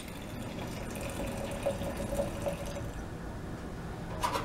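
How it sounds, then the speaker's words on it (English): Water pours steadily into a canning jar of squash with a soft, continuous trickling rush and faint gurgles, no voices. "Slowly put the water in."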